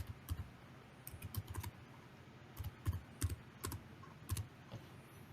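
Quiet, close keystrokes on a Chromebook keyboard, irregular bursts of light clicks with brief pauses between them, no talking.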